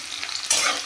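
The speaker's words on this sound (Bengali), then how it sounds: "কালো জিরেটা একটু ভাজা ভাজা হোক" Black cumin frying in a pan with chopped onion and garlic makes a brief, close sizzle that swells into a louder hiss halfway through, with faint stirring beneath it.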